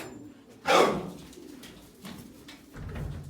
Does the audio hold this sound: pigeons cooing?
yes